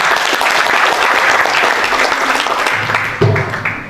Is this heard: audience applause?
yes